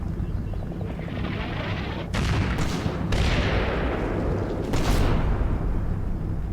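Artillery shelling in the wartime tactics game Combat Mission Rome to Victory, a continuous rumble of battle noise with several sharp broadband bursts of shell impacts standing out over the steady din.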